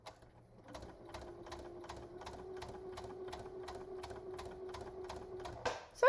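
A sewing machine runs steadily for about five seconds, chaining off roughly fifteen stitches on thread alone, with a rapid regular needle rhythm that is close and clear, then stops with a brief handling clatter.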